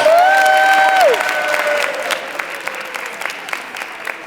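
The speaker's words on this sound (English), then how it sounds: "Give him a round of applause." An audience breaks into loud applause and cheering after a talk about the Board of Regents, with a whistle at the start, dense clapping that gradually thins out.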